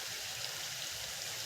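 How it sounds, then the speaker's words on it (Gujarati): Water running from a drip irrigation line on a farm, a soft, steady trickling hiss that continues without change, quiet and close. "હવે ટીપાલાઈનમાં પાણી ચાલુ કરી દીધું."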